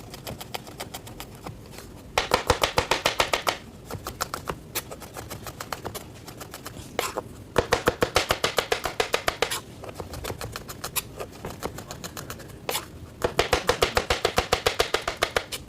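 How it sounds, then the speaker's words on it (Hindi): A knife slices garlic cloves on a cutting board for dal, making rapid, crisp tapping strokes in three bursts of several seconds each, separated by short pauses. "लहसुन के जब्बों को स्लाइस हमने कर लेना है"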